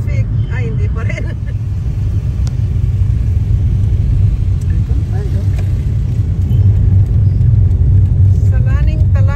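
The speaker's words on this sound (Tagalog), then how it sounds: "ginagawa itong daan dito kaya grabe ang traffic" Road traffic crawls past a construction zone in a rural province, a steady loud engine rumble of cars and buses close by, with people talking over it throughout.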